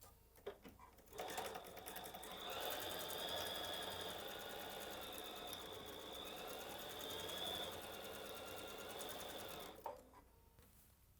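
A sewing machine runs a steady quarter-inch seam across an Alaska quilt block, its motor whirring continuously and fairly close for about nine seconds before stopping, with soft handling noises at either end.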